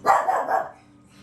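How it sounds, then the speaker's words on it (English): A pet dog indoors barks at people passing outside the window, a single close, loud bark with a short trailing yip that fades into quiet. "my dog just barks"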